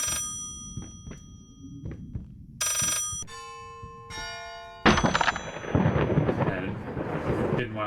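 A telephone rings twice in the horror video game Layers of Fear, in bright metallic bursts. Low thunder rumbles and rain-like hiss fill the background and swell after the ringing stops.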